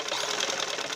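A sewing machine stitches along the edge of a shalwar, a fast steady close-up whir with faint rhythmic ticking across one second.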